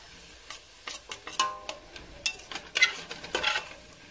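Onions and garlic sizzling gently for a pasta sauce while a utensil stirs and scrapes the pan in scattered strokes, close by and moderately loud, no voices.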